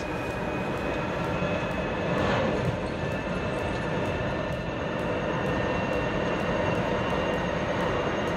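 Toyota COMS single-seat electric car running at full throttle toward top speed, a loud continuous drone of motor whine, road and wind noise from inside the cabin with a steady high tone throughout.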